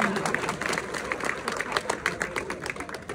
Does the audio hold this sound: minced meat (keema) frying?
no